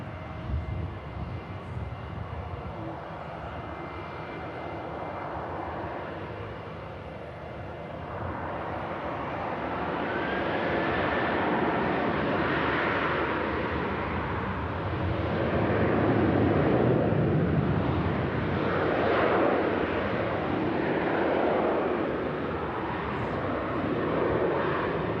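A Boeing 737 spools up its engines for departure at Manchester Airport, bound for Santorini: a broad, steady jet roar that swells after a few seconds and holds loud, with a faint rising whine over the rumble and no voices.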